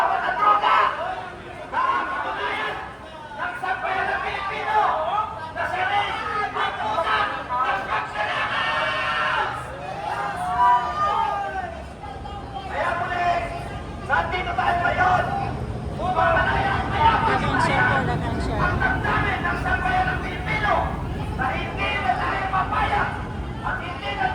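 A rally crowd outside the presidential palace, a dense hubbub of many voices chattering and calling out together, steady and loud throughout with swelling bursts, traffic noise mixed underneath.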